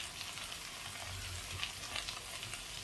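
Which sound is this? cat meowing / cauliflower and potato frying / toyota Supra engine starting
cauliflower and potato frying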